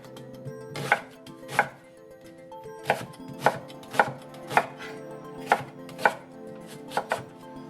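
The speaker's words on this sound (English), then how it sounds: "You're just going to slide down that, chopping it about a quarter-inch thick." A knife chops celery into quarter-inch pieces on a cutting board, making steady, crisp, evenly spaced thuds, about ten strokes with a short pause partway through, close and clear with no talking.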